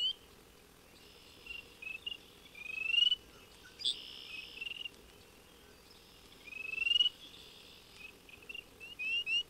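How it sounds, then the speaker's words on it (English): Spring peeper tree frogs calling at night from shallows, a steady chorus of high, bright peeping calls that rises in repeated bursts over a soft background hum. "a little tree toad, the peeper, starts his all-night serenade."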